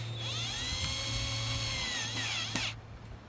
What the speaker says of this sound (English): It just got a couple screws to put in underneath.